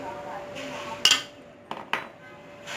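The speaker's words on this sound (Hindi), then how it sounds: "इसको ढक देंगे 2 मिनट के लिए" A metal lid is set onto a cooking pot of turnip and meat curry, giving a bright clink followed by two softer knocks, close and fairly quiet in a kitchen.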